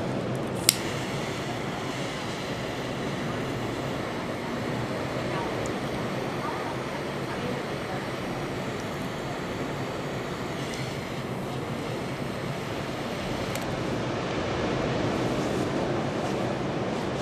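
Wind blows steadily outdoors, a constant broadband rush buffeting close and unbroken for the whole stretch, swelling slightly toward the end.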